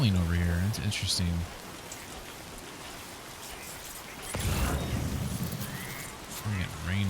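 Steady rain falling in the video game Death Stranding 2, a broad hiss that runs through the middle and swells toward the end, with someone talking over it at the start and finish.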